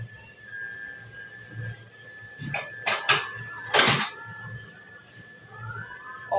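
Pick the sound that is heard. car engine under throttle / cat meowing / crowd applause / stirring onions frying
stirring onions frying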